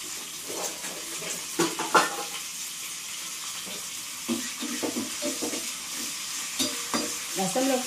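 Curry leaves and garlic spluttering in hot oil, a close sizzle broken by sharp pops and repeated stirring scrapes in the pan.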